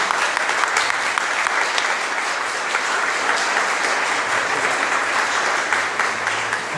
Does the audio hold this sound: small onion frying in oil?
no